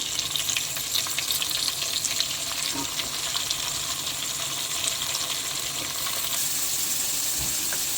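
Tomatoes fry in a pan for Hyderabad dum chicken biryani, with a steady, dense sizzle running the whole time and a few faint stirring clicks.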